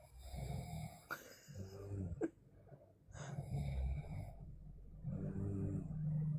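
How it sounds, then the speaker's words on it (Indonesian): A person snores in rhythmic cycles: rasping, rumbling inhalations with pauses and a sharp snort between them, close and fairly quiet. "ngorok dia Kak"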